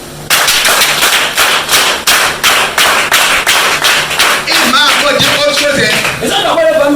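Steady rhythmic clapping from a church congregation acclaiming Jesus, loud and close, sharp claps running throughout, joined near the end by singing or voices.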